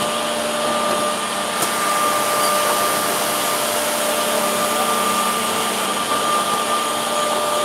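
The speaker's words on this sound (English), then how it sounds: "Please come here to see the uh, action of this corner trimming unit." The corner trimming unit on an intelligent edge banding workstation runs with a steady, loud machine whir and a high-pitched tonal whine, continuous and close, with no talk.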